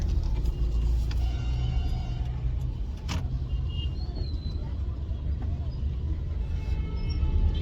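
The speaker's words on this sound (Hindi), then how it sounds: "बारिश की वजह से थोड़ा सा ट्रैफिक मिस मैनेज हो गया है" Steady road traffic in the rain on a city street in Ajmer, India, with a constant low rumble of passing cars and buses, a brief louder whoosh of a vehicle going by, continuous and close, with no voices.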